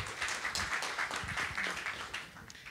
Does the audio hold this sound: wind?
no